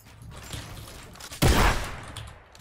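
In Fortnite, a short burst of video game gunfire follows wall edits during a warmup course, one loud dense blast over quieter in-game action noise.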